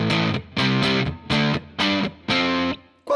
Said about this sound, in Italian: questo è il massimo drive di cui dispone il pedale